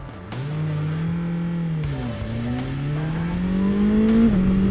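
A 2020 BMW S1000XR motorcycle engine revs and accelerates continuously in city riding, its pitch climbing, dipping briefly at a quick-shifter gear change, then rising again; close and loud without talk.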